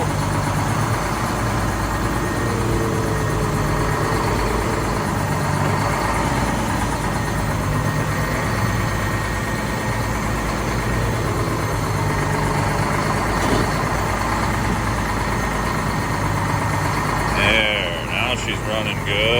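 A Detroit Diesel engine in a Loadstar truck idles steadily and loudly up close, a deep continuous rumble with harmonic drone throughout and a brief change in tone near the end.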